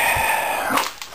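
A dog lets out a single short bark close by, followed by a brief softer yip, with no talking.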